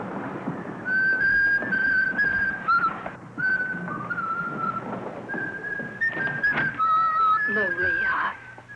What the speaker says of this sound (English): I was only whistling to myself